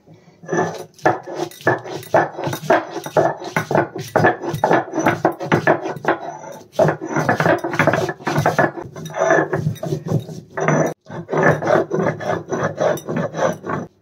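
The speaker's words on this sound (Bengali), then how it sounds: "এরপর শুকনো লঙ্কাগুলোও আমি পিষে নেব।" Dried red chillies ground by hand on a stone, a close, loud, rhythmic rasping of repeated strokes with brief pauses between them, and no voices.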